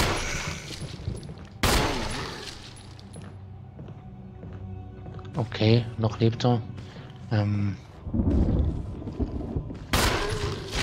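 Gunfire in the Resident Evil video game, aimed at a zombie: several sharp, loud shots spaced across the stretch, each a sudden broadband burst, with someone talking between and over them.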